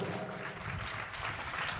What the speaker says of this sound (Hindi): एक बार संत पौलुस के लिए बनती ताली जरूर बजाएं